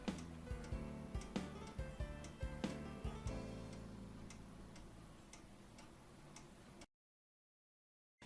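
A repaired Japanese 40-day wall clock ticks in a steady, even rhythm, close and clear, before the sound cuts off abruptly near the end.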